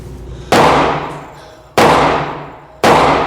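Three loud, sharp 9mm pistol shots from a Smith & Wesson M&P Shield EZ at a shooting range, spaced about a second apart, each with a long decaying ring-out and no talking.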